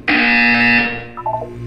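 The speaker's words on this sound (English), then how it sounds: "You will hear a buzzer" A loud electronic buzzer from Portal 2 sounds for about three quarters of a second, harsh and steady, then gives way to a few fainter tonal blips.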